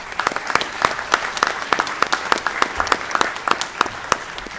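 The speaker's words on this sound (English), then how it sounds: "can they get a round of applause?" Applause for school staff at a Strongsville board of education meeting: a room of people clapping steadily throughout, moderately loud and sustained, with no voices over it.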